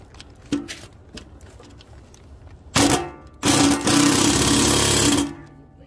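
A power tool tightens a bolt on a steel mailbox: scattered light clicks and taps, then a short loud buzzing burst and a longer sustained mechanical whir close by.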